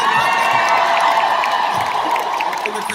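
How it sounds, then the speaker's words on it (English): An audience at a drag panel cheers and applauds, a dense, loud wash of clapping and shouts that holds steady for a few seconds with no clear break. "And the crowd goes mild."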